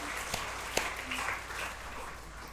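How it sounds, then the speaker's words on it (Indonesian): Audience applause at an online meditation gathering in Jakarta with over 200 attendees: a soft, steady patter of clapping, faint and distant, with a couple of sharper claps standing out. "Tepuk tangan untuk Jakarta."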